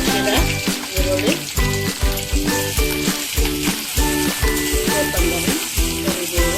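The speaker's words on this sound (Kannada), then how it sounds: "ಒಗ್ಗರಣೆಗೆ ಸ್ವಲ್ಪ ಎಣ್ಣೆ, ಹಸಿರು ಜೀರಿಗೆ ಚಟಪಟ ಅಂದ ನಂತರ ಹೆಚ್ಚಿದ ಈರುಳ್ಳಿ" Cumin seeds and chopped onion sizzle in hot oil for a tempering, a dense, continuous crackle broken by regular rhythmic scraping of stirring, close and loud with no talk.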